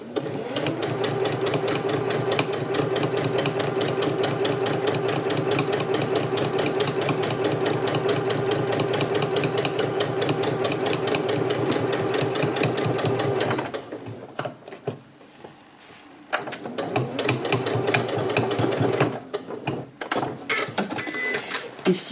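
A domestic sewing machine stitches a fabric face mask in a fast, steady run for about thirteen seconds, pauses briefly, then resumes for a shorter burst and stops again.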